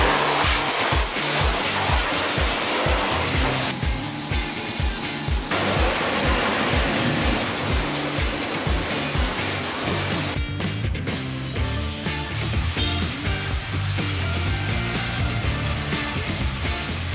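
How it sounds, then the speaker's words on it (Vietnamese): A high-pressure water jet sprays a car during a touchless car wash, a loud, continuous hissing roar that shifts slightly in tone as the spray moves across the body. "Đầu tiên là mình sẽ xịt xe."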